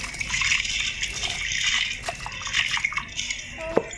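Water pours steadily into a pot with a rushing, splashing sound, tapering off near the end with a small clink.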